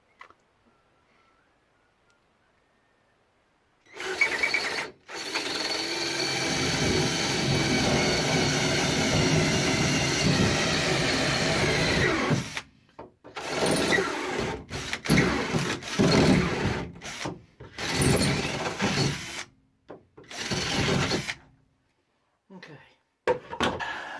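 A power drill bores holes into the floor of an Excel race car to bolt down an AGI bolt-in roll cage. It starts as a loud, steady whir held for about eight seconds, then gives way to short intermittent bursts with gaps of quiet.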